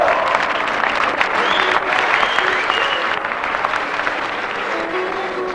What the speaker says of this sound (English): Let's have a big round of applause for all of our proficiency winners announced so far.